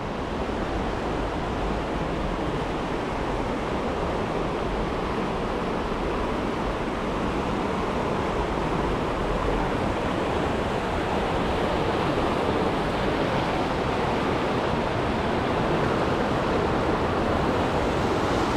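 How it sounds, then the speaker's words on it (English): The Lower Falls of Johnston Canyon roar in a steady, dense rush of falling water, loud and close, with no breaks across the whole span. "I think this is the Lower Falls, right?"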